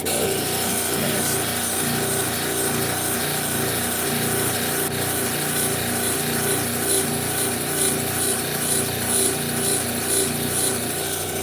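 A 3000 grit wheel grinds and polishes a sculpture with a steady, dense whirring rub that holds at an even loudness throughout, close up with no pauses.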